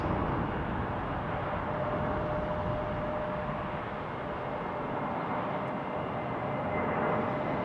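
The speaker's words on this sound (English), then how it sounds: "we catch an A321 arriving from Dallas" An American Airlines Airbus A321 arriving from Dallas passes with a steady, broad jet roar that holds at an even level throughout, with no voices.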